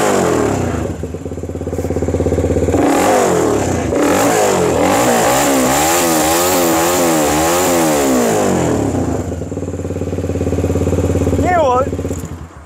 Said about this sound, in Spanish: así estaría sonando la RZ3R con un escape Yoshimura